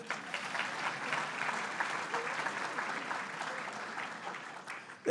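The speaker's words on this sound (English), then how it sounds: "Applause for that, I think." An audience at the 2016 Adirondack Winter Challenge applauds in a steady wash of clapping that runs the full length and ends with a brief louder burst.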